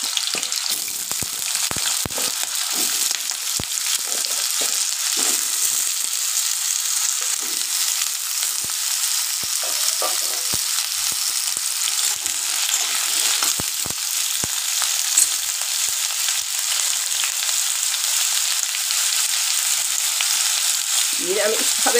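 Diced potatoes frying in hot oil in a pan, a constant loud sizzle with occasional crackles and stirring scrapes, lasting the whole time without any talking.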